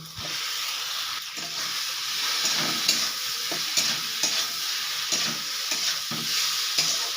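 Fried potatoes and eggplant tossed in a pan with turmeric, chilli and cumin powders and salt, sizzling steadily up close while a spatula stirs and scrapes in repeated strokes.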